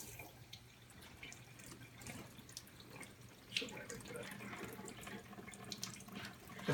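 Water dumps steadily from an opened cross-connection valve on a reduced-pressure backflow assembly, a continuous splashing rush close by that grows slightly louder partway through and keeps going without a break.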